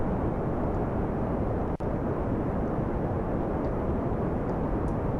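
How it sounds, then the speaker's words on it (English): Hybrid jet engine plane in the video game Kerbal Space Program: a loud, continuous broadband engine roar, steady and unbroken, with a single brief click partway through. "They are jet engines that can turn into pure rockets"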